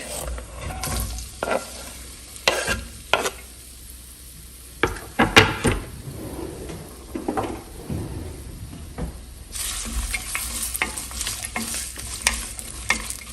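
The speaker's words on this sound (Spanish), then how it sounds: "En una cacerola con un poquito de aceite vamos a agregar la cebolla y la vamos a sofreír" Onion sautéing in a little oil in a pot, with a low sizzle broken by several sharp knocks and utensil clatters, then a louder, brighter sizzle toward the end.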